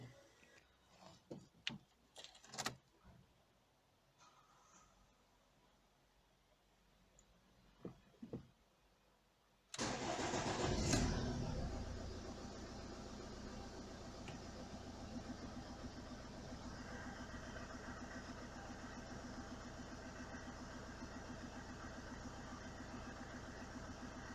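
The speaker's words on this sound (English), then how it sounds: "And now I can start the engine." Scattered clicks and handling noises, then a Ford Focus 1.8 TDCi diesel engine cranks and catches with a loud burst before settling into a steady, rough idle that continues to the end.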